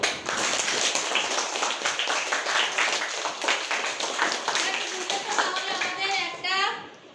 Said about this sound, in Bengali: দ্বিতীয় নম্বর গ্রুপকে আমরা জোরে একটা করতালি দেব